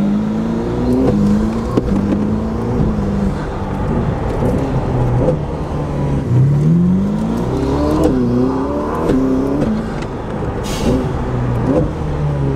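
A high-performance sports car accelerates hard and loud nearby, its engine climbing in pitch through several rapid, crisp gear shifts that each drop the revs before they surge again, with no speech over it.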